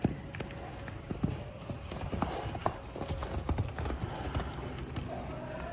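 Hooves of a Marwari mare clip-clop on soil in a steady, fairly close rhythm, with faint background noise and no talking.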